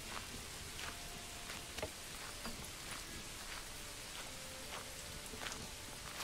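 Steady rain in the medieval city-building game Manor Lords, a dense, even hiss of drops falling on the ground with no voices over it.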